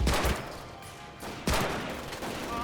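Gunfire in Medal of Honor Pacific Assault, set on Guadalcanal: a sharp volley opens, the noise trails off, then a second loud burst hits and rings out with a lingering, echoing tail.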